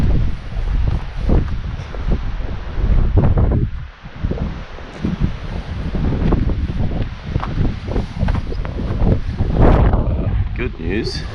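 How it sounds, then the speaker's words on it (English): Strong mountain wind on Mount Cain, North Vancouver Island, buffets the microphone in heavy, uneven gusts, roaring and rumbling close by with brief lulls. "Windy as fuck."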